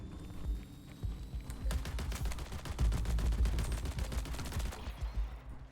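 Rapid bursts of shotgun fire and other gunfire in the sci-fi shooter game Marathon, dense clustered reports peaking in the middle of the clip, loud and close with no talk.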